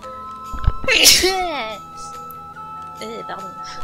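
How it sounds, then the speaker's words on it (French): One sharp, loud sneeze bursts out from a person close by, a quick gasping build-up snapping into an explosive release, followed by a couple of softer breathy sounds. "Je vais éternuer."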